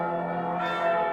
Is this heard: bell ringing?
yes